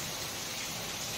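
Heavy rain pours down in a continuous, dense hiss, a steady wash of noise with no pauses and no voices over it.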